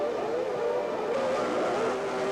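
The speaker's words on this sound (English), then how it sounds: "Engine notes rising." Formula 1 cars at the start of the 1993 French Grand Prix, engines revving together in a loud, high whine that rises and wavers in pitch, a continuous pack of engines with no voices.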